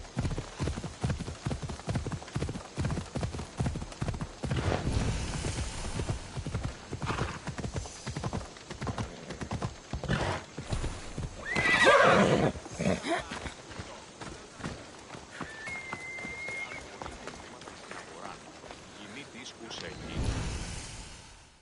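A horse gallops in Assassin's Creed Odyssey, its hooves clip-clopping in a steady rapid rhythm for the whole stretch, with a neigh partway through and game sounds around it.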